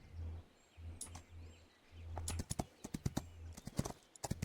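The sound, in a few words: horse hooves galloping in Rival Star Horse Racing video game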